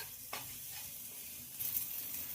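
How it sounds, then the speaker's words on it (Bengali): Spice paste with turmeric and salt frying in a pan for a paneer curry as water is poured in, giving a steady close hiss and sizzle with a brief splash early on and a swell of bubbling near the end. "আর এবার জল দিয়ে দেবো।"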